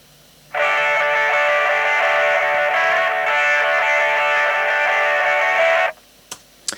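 A guitar riff plays, filtered thin and tinny like it is coming from a small radio, for about five seconds before stopping, followed by a few clicks.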